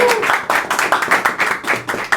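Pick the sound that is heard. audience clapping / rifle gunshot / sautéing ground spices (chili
audience clapping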